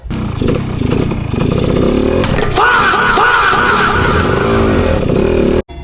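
A loud, close Kawasaki motorcycle with an air-cooled engine and four-speed manual gearbox revs and accelerates, its rough engine note rising and falling with clattering mechanical noise, ending abruptly.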